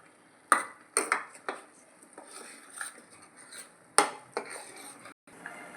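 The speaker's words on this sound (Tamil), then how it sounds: "இப்போ உப்பையும் சேர்த்து கிளற ஆரம்பிச்சிடணும்" A metal spoon stirs mudavattukal kilangu soup in a cooking pot after salt is added. Sharp clinks and scrapes against the pot come at an irregular pace, close and fairly quiet, with no talking.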